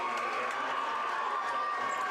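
Crowd at a high school boys' basketball game standing and cheering, a steady, dense roar of voices and shouts in a gym throughout.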